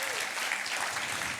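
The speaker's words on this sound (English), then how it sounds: "One more round of applause for him." Clapping and applause from an audience at the Force for Nature Festival after a performance, dense and steady throughout, moderately distant and fairly soft, with no talking.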